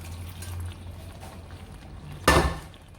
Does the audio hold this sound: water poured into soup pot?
yes